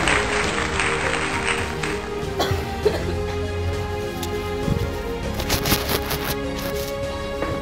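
A church congregation applauding, a steady wash of clapping that swells toward the end, with a cough or two and a loud room hum underneath.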